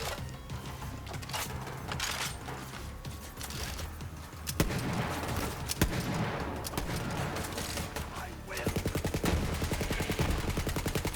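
Assault rifle gunfire from Borderlands 3, sustained bursts and rapid shots layered over game music and effects, with a denser, faster run of evenly spaced shots near the end.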